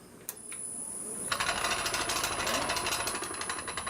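A wood lathe switches on and spins up while turning a wooden cowboy hat blank, a steady whirring hum with a high whine and rapid rattling chatter after a couple of sharp clicks.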